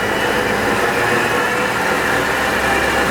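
A Chrysler 360 engine in a 1929 Chrysler, fitted with headers and a 625 AFB carburetor, running steadily as a loud, dense, continuous roar with no breaks.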